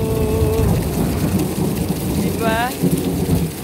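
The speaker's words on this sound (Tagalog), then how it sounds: "Yung lightning, ang lakas." Heavy rain pours steadily in a thunderstorm, with rumbling thunder rolling beneath the downpour throughout; a voice briefly speaks over the storm.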